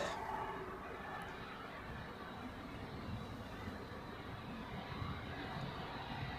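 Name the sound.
Edelweiss Airbus A340 pushing back at Zurich Airport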